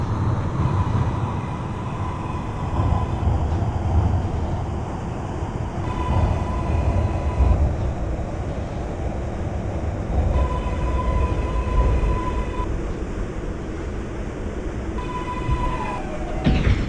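An R142A subway train on the New York IRT 6 line heads toward Brooklyn Bridge in the Openbve train simulator game, giving a steady rumbling ride with clacking and a few brief high whines and tones over the running noise.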